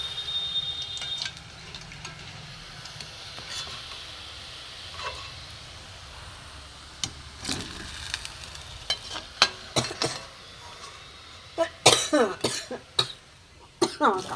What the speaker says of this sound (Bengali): আমার কাশি হয়েছে বড্ড